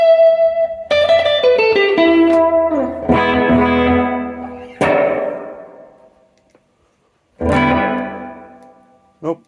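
Several notes played through a Boss effects pedal set to plate reverb, each one ringing out in a long, bright wash that slowly fades. There is a gap of near silence before a final swell, and no talking.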